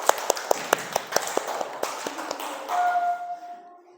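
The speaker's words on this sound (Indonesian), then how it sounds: "tepuk tangan buat kelompok 3" A small classroom group claps for a student group after their presentation: sparse, uneven claps at close range that thin out over a few seconds, followed by a faint sustained tone.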